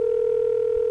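Steady telephone dial tone from a 1983-era Centrex line on a three-way call before dialing, a continuous loud hum held unchanged throughout with no voices.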